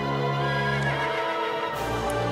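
A horse in The Legend of Zelda: Twilight Princess HD whinnies in a sustained, wavering call over a steady musical backdrop, with a brief brighter burst near the end.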